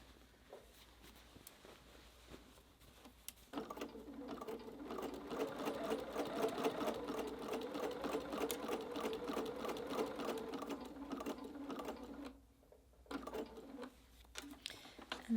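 A domestic sewing machine stitches quilted jelly-roll fabric for a large tote, whirring in a steady continuous run for about eight seconds after a few soft clicks and handling sounds, then stopping and briefly restarting.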